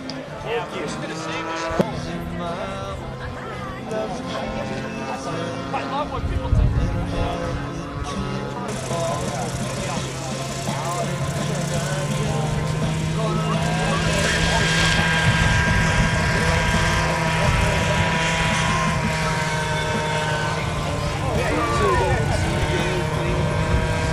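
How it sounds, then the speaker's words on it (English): A gasoline-powered Hughes radio-controlled model helicopter flies at an R/C airshow, its small engine a steady buzzing drone that grows fuller and louder over time, with an announcer talking over it. "Mike's airborne with the Hughes helicopter. It's gasoline powered."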